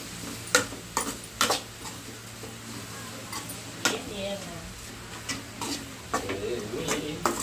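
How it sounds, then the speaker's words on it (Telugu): A spoon stirring tomato curry with chili and coriander powder in a pan, irregular sharp scrapes and clinks over a soft background sizzle, close by. "పౌడర్ వేసుకొని మొత్తం బాగా కలుపుకున్నాం"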